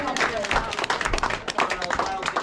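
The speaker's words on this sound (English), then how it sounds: "please give them a big round of applause" An audience at the Mystery Spot in Santa Cruz gives a brief round of applause, with close, uneven claps mixed with voices over a couple of seconds.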